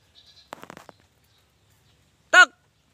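On a goat farm, a goat gives one short, clear bleat against an otherwise quiet background, after a few faint, scattered noises earlier on.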